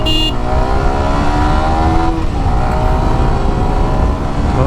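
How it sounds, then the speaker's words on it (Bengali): Modified Yamaha R15M motorcycle accelerating hard, its loud, close engine note climbing steadily through the revs with a brief shift partway. "বাইকটা একটু টান দেশি, দেখা যাক কেমন কি পাওয়ার"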